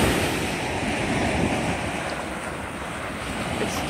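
Ocean waves washing onto Gulf State Park beach in Gulf Shores on a summer morning, a steady broad rushing surf with some wind noise on the microphone and no talking.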